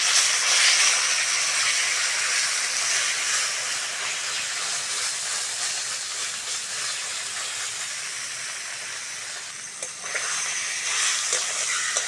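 Boiled taro leaves dropped into hot oil spiced with bay leaf, dried red chilli and five-spice, giving a loud, steady, close sizzling hiss that continues unbroken throughout.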